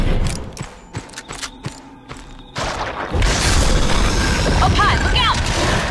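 Pistol fire in the video game Darkwatch: several sharp gunshots in quick irregular succession, then a loud sustained rumbling blast and roar with high whistling tones, with a voice talking over the game sound.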